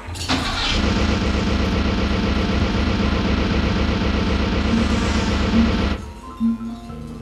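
A vehicle engine cranks over on its starter and catches quickly, then runs at a loud, steady idle for several seconds before cutting off abruptly.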